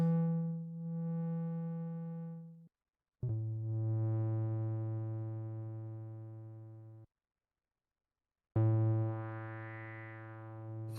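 Donner B1 synthesizer playing sustained bass notes through a distortion effect, three separate held tones with brief silent gaps between them, buzzy and harmonically rich, with no talking.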